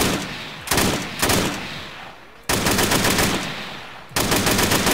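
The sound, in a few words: Kalashnikov (AK) rifle gunfire in the video game Arma III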